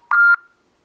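Mobile phone redialing a call, with a single short, clear electronic tone sounding close and loud for about a quarter second and then cutting to silence.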